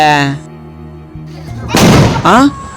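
A Diwali firecracker bursts with one loud, sharp crack partway through, set between bits of lively voices talking before and after it.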